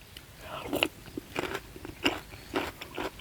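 Crisp, loud bites and crunching as raw garlic is chewed, several separate crunches spaced irregularly, close to the ear, with no talking.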